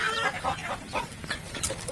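Several chickens cluck in short, overlapping bursts, fairly close and steady throughout, with no talking.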